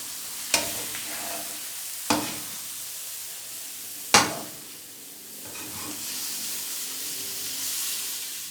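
Carrot halwa being stirred and roasted in a pan while a cup of coconut and almond mix goes in, with three sharp spoon scrapes over a steady soft sizzle and hiss, close and fairly quiet, no talking.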